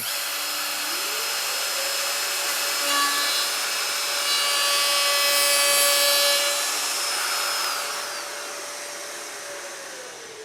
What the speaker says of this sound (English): Starte die Maschine und fahre jetzt langsam an die Kante ran.